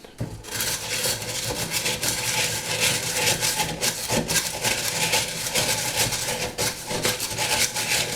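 A screwdriver stirs PVA glue in a continuous, close, gritty scraping and rubbing that runs loud and steady from start to finish.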